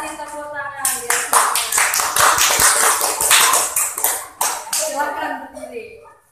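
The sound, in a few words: class applause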